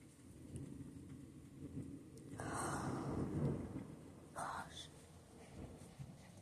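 A thunderstorm with steady rain and a low rumble of thunder that swells in the middle and fades, heard from indoors with faint background noise.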